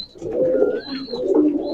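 High-flyer pigeons in a breeder's loft coo in two close, throaty bursts, with a faint higher whistle-like tone drifting above them.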